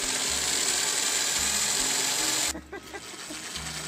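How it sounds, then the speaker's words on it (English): A power drill boring into masonry whines loudly and steadily, grinding in short bursts, then cuts off as clattering and rustling follow. "Commence drilling."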